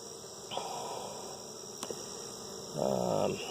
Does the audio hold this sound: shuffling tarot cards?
no